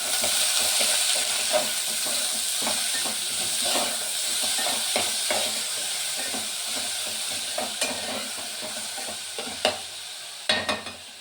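Food fries in a pan for a home-cooked Kannada-style saaru, a steady close sizzle and hiss with soft stirring scrapes and a few sharper clicks toward the end, with no talking.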